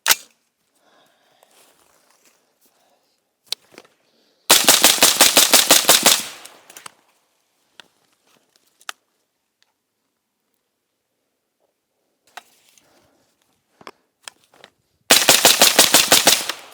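Suppressed automatic gunfire through a KeyMo suppressor mount during a stress test, two long rapid bursts of loud shots separated by quiet stretches with scattered clicks and handling knocks.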